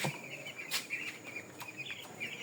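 Eight-day-old chickens on a poultry farm cluck and chirp softly, a few short calls scattered over a quiet background.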